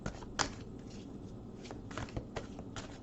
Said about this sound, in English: Okay, you said it's enough shuffling.